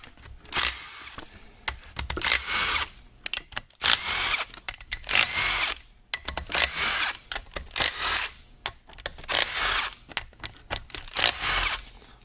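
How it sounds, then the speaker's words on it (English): Power tool (impact driver or drill) backing 10mm-head 6mm bolts out of the top of a Yamaha Banshee engine case, in repeated short bursts of whirring and rattling with brief pauses between, close and fairly loud. "take out the 6mm bolts off the top"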